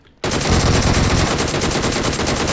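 Rapid automatic gunfire from PUBG Mobile bursts in loud and close after a brief moment of quiet, then continues in a dense, unbroken stream of shots.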